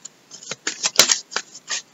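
A tarot card slid from a deck during a reading, short papery swishes and flicks in quick succession, close and fairly soft, with no voice.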